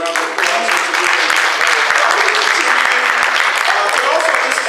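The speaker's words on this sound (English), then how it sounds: "And let's give them a round of applause." Audience members at a district candidate forum held in a church clap in a loud, dense round of applause that continues steadily from start to finish.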